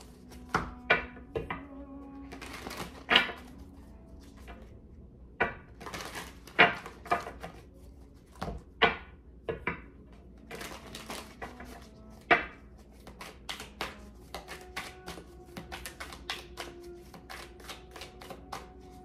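Tarot cards shuffled by hand in a quiet room, with a series of sharp riffling snaps and soft slaps at irregular intervals, close and alone without talk.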